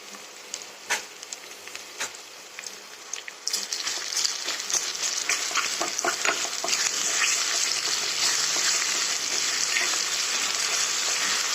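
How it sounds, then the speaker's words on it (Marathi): Onions frying in a pan for a spiced udid and chana dal varan, a steady loud sizzle that swells after a few seconds and holds, with a few sharp crackles and pops on top. "कांदे चांगले भाजायचे"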